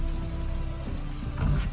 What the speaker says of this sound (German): Ich liebe Regen.